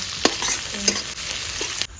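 Whole dried red chillies and cumin seeds fry in hot oil, making a brisk, close sizzle dotted with sharp crackles and pops over about two seconds before it drops off.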